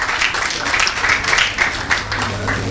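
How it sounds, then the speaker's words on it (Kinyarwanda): An audience at a school awards ceremony claps steadily throughout, a dense continuous patter of many hands, moderately loud and sustained with no pause. "Nuko mubaha amashyi."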